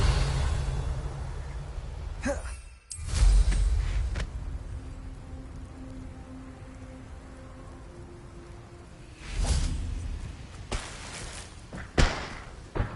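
Confringo blasting spells from the Hogwarts Legacy video game go off as a few heavy, booming thuds spaced several seconds apart, with quieter game ambience between them.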